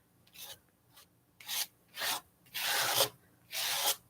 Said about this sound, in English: Just scrape something over top and build on what you got left.